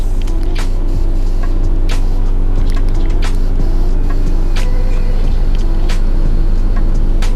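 A modified 2012 Honda Accord's adjustable air suspension lowers the rear, giving a loud steady mechanical hum with scattered clicks and hissy bursts throughout.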